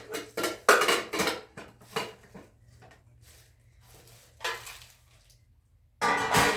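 Metal pans clatter and clank as they are set down one on another, several bursts of knocks separated by short pauses, close by.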